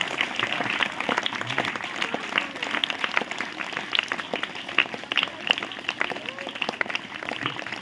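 Clapping from an audience at a motivational talk on building a poverty-free society, steady and continuous with dense overlapping claps throughout and no one speaking over it.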